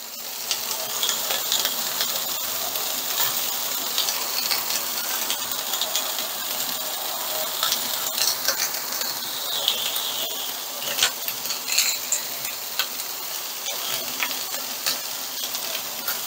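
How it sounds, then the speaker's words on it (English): Fried rice sizzles steadily in a hot pan, a continuous bright hiss and crackle with occasional scraping stirs, unbroken by any talking. "I'm going to shut up and you can enjoy the cooking sounds"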